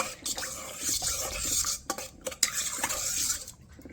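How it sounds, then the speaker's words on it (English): A utensil stirs yeast into a bread dough mixture in a bowl, making close, brisk scraping and clinking strokes in quick succession for a few seconds, with no voices. "I'm gonna stir that in too. Stir, stir, stir."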